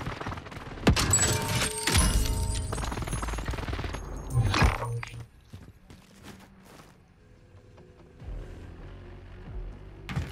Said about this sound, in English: Who's shooting there?